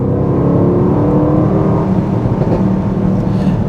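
A 2025 Mercedes-AMG GLE 63 S Coupe accelerating hard, heard from inside as a steady, loud engine drone that builds without a break, with faint crackles from the exhaust.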